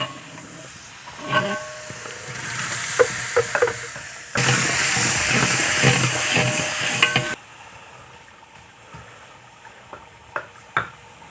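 Finely chopped tomatoes, green chilies and lemon drop into browned onions frying in a pot, setting off a loud burst of hissing sizzle, with stirring clatter before and after.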